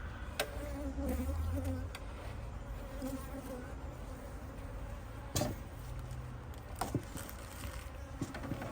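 Close, continuous buzzing of many bees around a poly hive, with individual insects droning past the microphone and a few sharp clicks.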